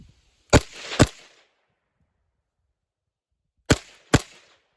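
POF-5, a Pakistani MP5 clone with a stamped receiver, fired with brass-case ammunition: two quick pairs of sharp, loud close shots separated by about three seconds of silence.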